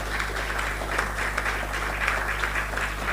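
A conference audience in Nigeria keeps up continuous applause, a dense wash of many hands clapping at moderate distance over a steady low hum, with no speech on top.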